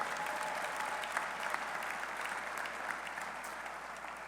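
Steady applause from an audience at a college football head coach's introductory press conference, dense clapping sustained evenly throughout at moderate level, with no voices standing out.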